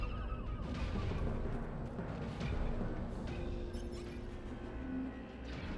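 Weapons fire in LEGO Star Wars: The Skywalker Saga: a steady, dense wash of distant booms and blaster-like blasts with scattered sharper hits, continuous throughout and no voices.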